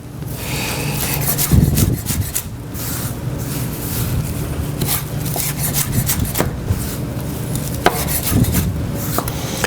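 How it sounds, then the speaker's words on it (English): Parsley being minced with a knife on a cutting board, a steady run of close, loud chopping strokes and scraping with no talking. "we just give it a good chop, kind of mince it up"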